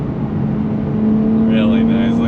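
A 2023 Nissan Z Performance with its twin-turbo V6 being driven, a loud, steady engine drone with a sustained tone, heard from inside the car with no talk over it.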